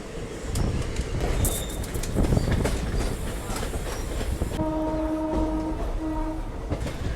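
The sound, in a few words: goods train with locomotive departing station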